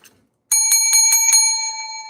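A bicycle-style bell rings five quick, bright strikes in a rapid burst, then its tone rings on and fades. It is close and loud, with no talk.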